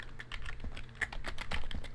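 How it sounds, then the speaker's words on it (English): Steady, fast typing on a computer keyboard, a continuous run of close, clicky keystrokes at an even rhythm with no talk. "I'm just going to type in my email on bold"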